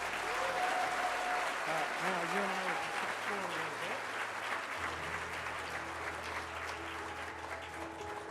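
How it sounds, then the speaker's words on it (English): An audience at a university event gives a round of applause, steady broadband clapping throughout, with a low hum and faint tonal sounds underneath. "Join me in a round of applause."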